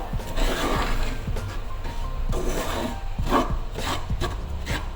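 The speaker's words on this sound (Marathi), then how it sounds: "आता मी घेतलं एक वाटी रवा छान परतून घ्यायचं आहे तुपावर" Semolina is stirred and roasted in ghee in a pan over a slow flame for sweet suji halwa, making a steady scraping, rubbing sound from the spoon in repeated strokes close by.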